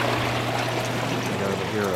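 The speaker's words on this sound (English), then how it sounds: "So I'm cycling the tank, and not sure if that's too much agitation or not." Water churns and splashes vigorously in an MBBR filter on an aquarium tank being cycled, a steady close rushing gurgle running throughout.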